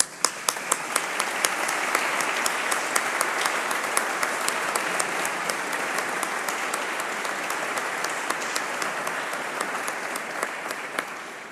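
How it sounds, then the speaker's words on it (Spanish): Sustained audience applause at a Nueva Murcia forum event in Spain, a dense steady clapping from a large crowd that holds evenly for the whole stretch without any talk over it. "el aplauso de agradecimiento que todos le debemos"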